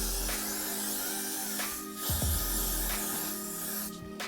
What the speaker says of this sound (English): And I'm going to just spray all of here.